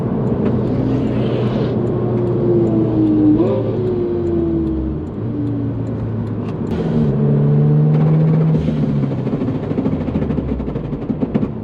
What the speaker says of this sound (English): my under tray fell off and was just flapping around